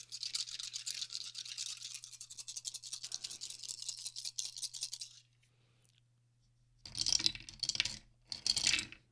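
Seven dice rattled for several seconds in a tabletop roleplaying game, then two short bursts of clattering as they tumble and settle on a hard surface, close, no talking.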